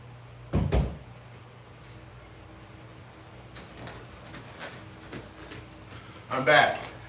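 A back door opens with a sharp thud and bumps shut a few seconds later, both moderately loud against a quiet room. A voice talks faintly in between.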